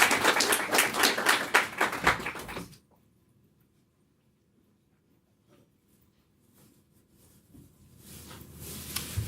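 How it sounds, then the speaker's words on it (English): A small open mic audience gives a short burst of clapping that stops abruptly after about three seconds, followed by near silence with faint rustles and then light room noise. "So everybody give a loud applause."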